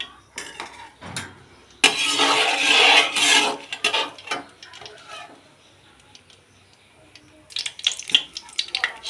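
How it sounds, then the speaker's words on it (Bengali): A dried red chili, a bay leaf and panch phoron five-spice hit the hot oil left from frying fritters, bursting into a loud sizzle for about two seconds before fading to quieter crackles and scattered clatter. "বড়াগুলো ভাজার পর ওই তেলেই একটা শুকনো লঙ্কা একটা তেজপাতা পাঁচ ফোড়ন"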